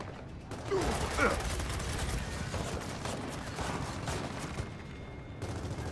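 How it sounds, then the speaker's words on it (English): Enemy gunfire in Gears of War 4 rattles in bursts over dense, continuous combat noise, with mechanical clanks mixed in, steady and loud throughout. "They're just shooting at me, I can't do anything."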